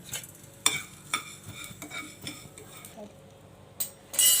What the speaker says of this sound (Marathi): सगळ्यात आधी आपण इथे राई भाजून घेऊया धने भाजून घ्यायचे